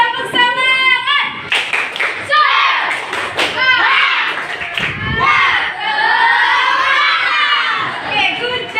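A class of children does the spirit clap (tepuk semangat), with loud bursts of rhythmic clapping, thumps and excited shouting mixed with children's voices and some chatter.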